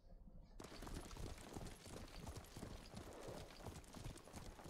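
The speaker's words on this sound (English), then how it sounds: "What a good horse." A horse in the video game Ghost of Tsushima clip-clops at a quick, steady gait, its hooves loud and close, with a faint voice under the hoofbeats.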